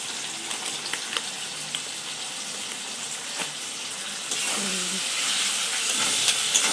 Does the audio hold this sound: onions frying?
yes